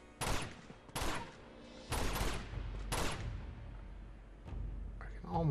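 Sniper gunfire from the Uncharted 2 video game, four sharp loud shots about a second apart followed by a fainter crack and a final thump, with a game voice in the background.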